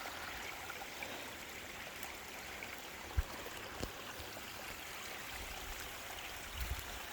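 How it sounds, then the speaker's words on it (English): Rainwater trickles down through a tree in a steady, soft wash of running water, with a few faint drips and knocks standing out and no talking. "Trickling down through the tree."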